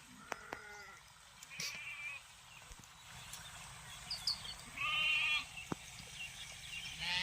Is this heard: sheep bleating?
yes